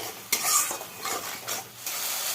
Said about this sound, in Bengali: টক দই দিয়ে একটু নাড়াচাড়া করবো, আর একটু কষে নেবে